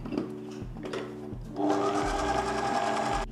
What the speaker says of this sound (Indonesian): Kita aduk bentar bahan-bahan keringnya.